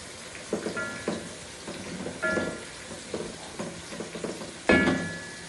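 Spices and ginger-garlic paste fry in a pan while being stirred, giving a soft, steady sizzle with scraping bursts at an uneven pace, close but fairly quiet.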